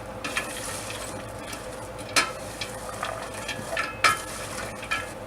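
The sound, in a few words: spoon stirring onions, celery and carrots in a pot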